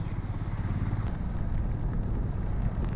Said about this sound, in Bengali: আমরা বিশাল জ্যামের মধ্যে ফেঁসে গেছি